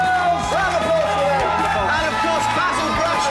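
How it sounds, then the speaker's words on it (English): A studio audience on a Saturday TV show cheers and whoops loudly and continuously, with a dense crowd roar and excited shouts throughout. "a massive, massive round of applause for Sophie"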